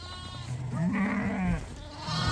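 Lambs bleat on a farm with a wavering, nasal cry that rises and sustains near the middle, close and fairly loud over a steady low background hum.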